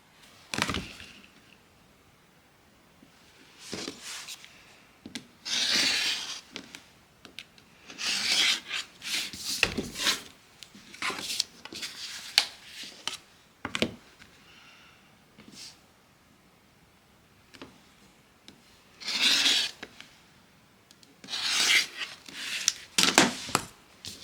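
Edges of a fabric quilt block being trimmed to a quarter inch, heard as a series of short, close scraping and rasping cutting strokes in irregular bursts with quiet gaps between them; no voices.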